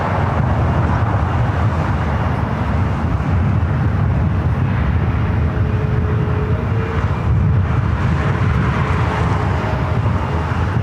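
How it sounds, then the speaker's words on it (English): A Boeing 787-8 Dreamliner departing LAX for Santiago gives a steady, broad jet roar that fills the scene without pause, mixed with wind buffeting the microphone. "This flight heading to Santiago, a 787-8 Dreamliner, flight"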